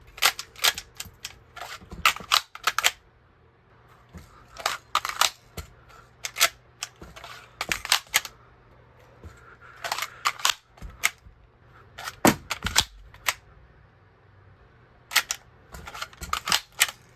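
A Taran Tactical 2011 shell-ejecting toy pistol being reloaded and handled, with sharp plastic clicks, snaps and clacks in irregular clusters separated by short pauses, close and loud.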